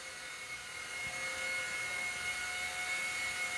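An Eachine E130 RC helicopter flies close by, giving a steady high-pitched rotor whine and motor buzz that holds constant throughout without any talking.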